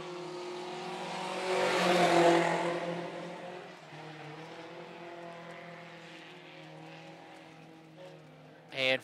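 Sport compact race cars roar around the east-end corners of a Phillips County Raceway speedway during the final main event, engines swelling loud, then droning steadily with a sharp burst near the end; an announcer talks over the engine noise.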